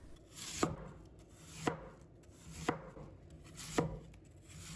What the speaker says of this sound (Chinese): 我们把苹果切成薄片，切到像这样有核的部位，然后我们给它换一面，再继续切